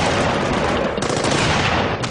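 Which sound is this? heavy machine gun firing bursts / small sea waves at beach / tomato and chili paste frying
heavy machine gun firing bursts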